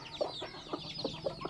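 Several chickens being fed rice give quiet, repeated clucks at an uneven rhythm, fairly close by and faint overall.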